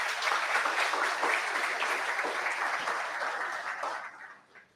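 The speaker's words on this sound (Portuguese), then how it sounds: "Por favor, salva de palmas." Audience applause at a corporate business event, many hands clapping in a steady patter that holds for about four seconds and then fades out at the end.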